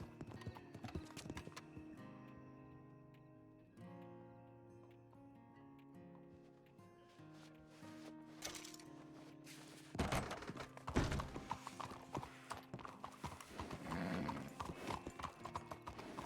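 Horse hooves clip-clop in the Western role-play game RedM WildRP, a steady trotting rhythm over game music, with a whinny and heavier thuds later on and no talking.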